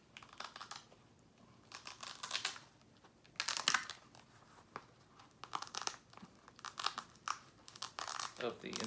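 Velcro pads pull apart from insulation and neoprene padding on a proton pack frame, making bursts of rough tearing and crinkling with handling noise between them and no talking.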